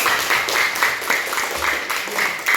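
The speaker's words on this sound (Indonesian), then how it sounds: "Iya, tepuk tangan dulu." A classroom of students claps in rhythmic bursts, with accented beats recurring about every quarter second, moderately loud and steady with a short, slightly irregular cadence.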